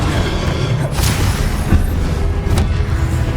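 The Incendio fire spell cast in Hogwarts Legacy makes a loud, close rumbling roar with a few sharper bursts, sustained throughout the short moment.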